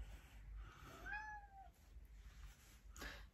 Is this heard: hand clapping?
no